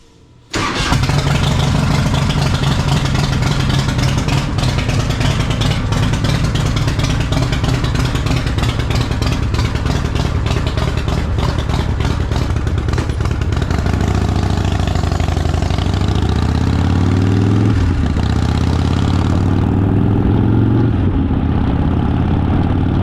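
A motorcycle starts up loud and close, rumbles at a steady idle, then revs and rises in pitch as it pulls away on a ride, with no voices over the engine.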